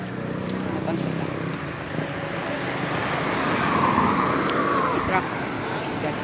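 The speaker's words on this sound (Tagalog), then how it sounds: "Truck." A truck passes along a road amid steady traffic noise, a broad engine rumble swelling toward the middle of the stretch and then easing, with a voice heard in the background.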